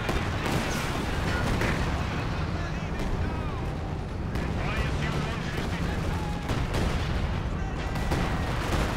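A slow-firing ISU-152 self-propelled gun in the Company of Heroes video game, heavy booms within a dense, continuous battle din of gunfire and explosions, with voices talking over it.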